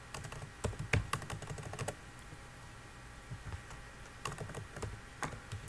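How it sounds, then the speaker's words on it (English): Someone types a command on a computer keyboard during a networking class on switch spanning tree: irregular quick clicks and key clacks up close, then a pause before another run of keystrokes, with no talking. "when you type show spanning tree summary"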